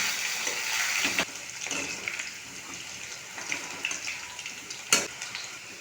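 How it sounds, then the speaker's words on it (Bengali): Sliced potatoes fry in hot oil with black cumin seeds and green chilies, a continuous hissing sizzle broken by a couple of sharp clacks of a spatula turning them, close and without speech. "আলুগুলি নেড়ে চেড়ে হালকা লালচে করে ভেজে দেবো।"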